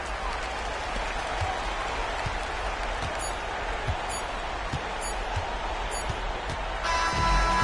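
Arena crowd noise in the NBA 2K26 basketball video game, a steady roar of cheering with occasional ball bounces and faint commentary under it.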